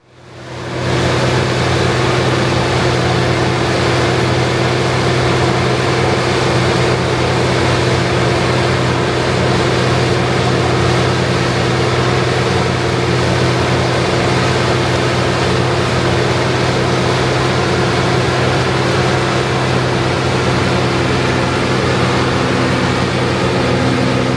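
International Harvester 5088 tractor chopping corn silage, its engine a loud steady drone with a low hum that holds evenly and alone throughout.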